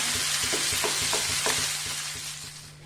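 Prawns fry in hot coconut oil with a loud, steady sizzle near at hand. Repeated stirring scrapes come at an irregular rhythm, then the frying eases off toward the end, with no talking.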